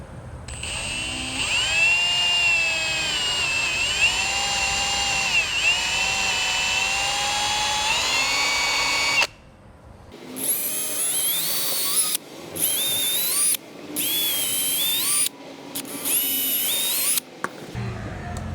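A power drill bores pilot holes in a pontoon boat deck while a shade is being fitted, with one long steady whine and then several shorter high-pitched bursts with brief pauses between them.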